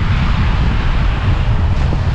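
Strong wind buffets an outdoor microphone in Finland in the late afternoon, a steady low rumbling roar that runs continuously and loud throughout with no voices.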